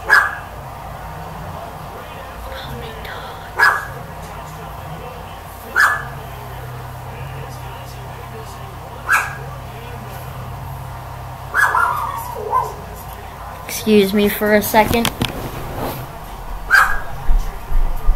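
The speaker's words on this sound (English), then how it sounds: "Dog, shut up." A dog barks indoors in single sharp barks spaced a few seconds apart, with some whimpering and yips, heard loud and near over a quiet room, with someone speaking briefly.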